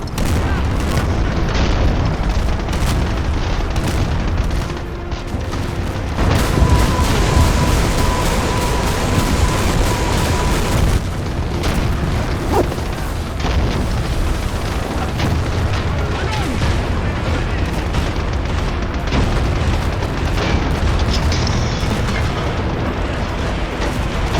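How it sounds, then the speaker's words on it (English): Battle sound effect near the Seelow Heights where Germany made its last stand against the Red Army, with booming explosions and artillery fire rumbling continuously and loudly throughout, dense and layered. "Let's just take a moment with the noise of battle all around."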